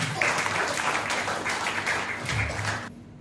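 A spiritual discourse audience breaks into steady applause, a dense wash of many hands clapping at moderate distance that carries evenly for about three seconds before cutting off.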